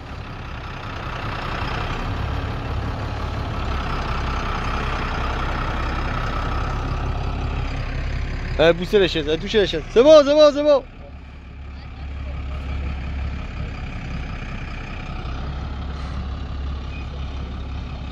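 Heavy truck engine idling with a low steady rumble during heavy-vehicle licence practice, interrupted midway by a brief burst of wavering tonal sound, while people talk over it.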